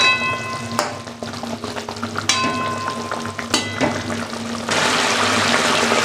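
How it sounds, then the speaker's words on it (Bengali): A pan of fish curry made with poppy seed paste, green chillies and fresh river bhola fish bubbles and sizzles on the stove, with scattered stirring clinks and a louder, steady hiss swelling toward the end. "এবার ভালোভাবে ফুটবে।"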